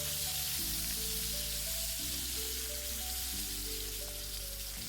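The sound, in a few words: fish sizzling as it fries in hot oil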